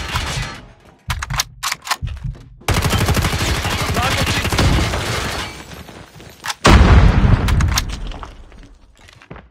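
Rapid gunfire in a shooter video game, loud and close, with dense bursts of automatic fire and sharp single shots, plus some brief in-game radio chatter.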